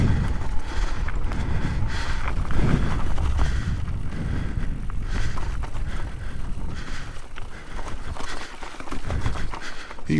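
2021 Intense Tazer MX Pro electric mountain bike with SRAM 11-speed coasting downhill on cold trails, loose rattling and jostling under steady wind rush against the microphone.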